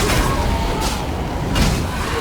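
Explosions from enemy deaths in the fantasy video game Elder Scrolls Online sound as two dull booming bursts over a dense, constant game soundscape.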